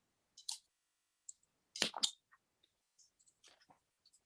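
A carving knife making sliding cuts in wood while carving a simple Santa ornament: a few short, dry scraping strokes, close and fairly quiet, separated by silence.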